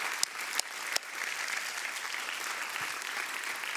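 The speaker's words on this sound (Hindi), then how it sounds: "जोरदार तालियां हो जाए दयाशनी के लिए" An audience claps for contestant Dayashani on a kids' talent show stage, a steady moderate wash of applause with a few sharper claps at the start and faint talk underneath.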